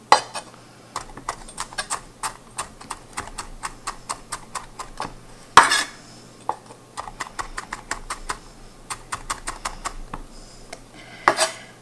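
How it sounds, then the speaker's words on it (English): Fine chopping of ginger with a knife on a cutting board: rapid, close knife taps in uneven bursts with short pauses, a few heavier knocks mixed in, and no talking. "I'm just going to chop it really fine"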